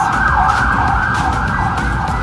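An ambulance siren wailing on a busy street in Pattaya, loud and close, its pitch sweeping up and down in a continuous howl over road noise.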